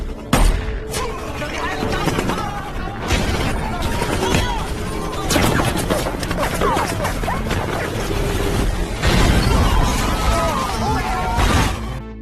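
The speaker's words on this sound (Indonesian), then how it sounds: "Namun naasnya, sahabat baik Bob yaitu Donnie, harus tewas dalam insiden baku tembak ini" Loud, dense gunfire from a film gunfight fills the whole stretch, with rapid bursts, heavy booms and crashes packed together in an almost continuous barrage.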